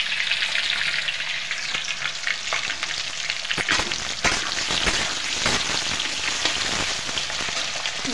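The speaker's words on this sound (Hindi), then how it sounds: "ये देखिए कितनी अच्छी तरह से आलू हमारे फ्राई हो रहे हैं" Potatoes fry in a pan over a medium flame, giving a steady, close hiss and crackle of hot oil throughout, with occasional louder pops and stirring scrapes near the middle.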